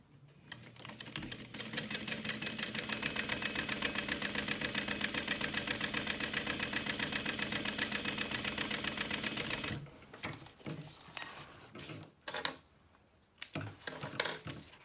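A sewing machine stitches a shoulder bag in a fast, steady mechanical run lasting about ten seconds, then stops; short bursts of handling and fabric or machine clicks follow. Nobody talks.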